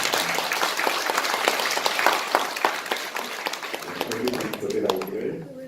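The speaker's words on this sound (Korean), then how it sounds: "박수로 한번 환영할까요?" A church congregation applauding to welcome guests from Sri Lanka, a few seconds of dense, lively clapping from a crowd in a hall that fades out toward the end.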